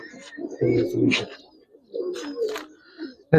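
Giribaz and coloured pigeons coo at close range in a pigeon market, several low throaty calls in quick succession, with a voice briefly heard among them.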